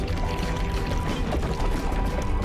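Water pours steadily in the platformer The End Is Nigh, a continuous rushing splash with a few clattering knocks mixed in, running at a constant level throughout.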